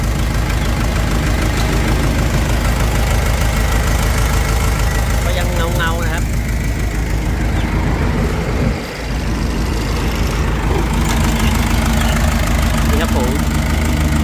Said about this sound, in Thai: เครื่องยนต์จะเป็น 4D 102 นะครับ